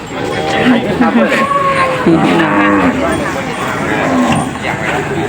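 Cattle at a livestock market in Khok Charoen, Sawang district, Sakon Nakhon, Thailand, moo repeatedly and loudly up close, with several overlapping calls set against crowd chatter and people talking.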